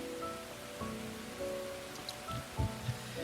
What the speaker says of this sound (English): I could barely hear him to the sound of rain and thunder